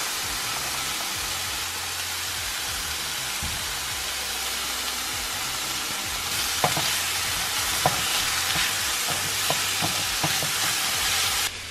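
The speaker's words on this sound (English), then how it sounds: "now that that's sizzling away, you can hear it" Mushroom curry for a pasanda sizzles steadily in a hot pan, a dense hissing fry with scraping stirring strokes and utensil clicks growing more frequent toward the end, no voices.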